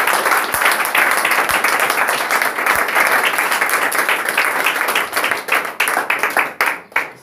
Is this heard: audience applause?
yes